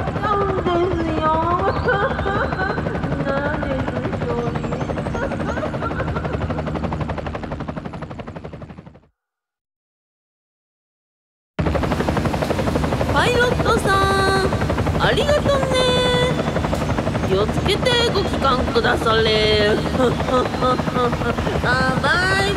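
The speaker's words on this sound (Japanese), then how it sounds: "ヘリはやっぱり便利ですね。" A helicopter sound effect in a Japanese radio drama, its loud rotor roar filling the first part before cutting off, then returning as a busy, fluttering mechanical roar over the rest, with no voices.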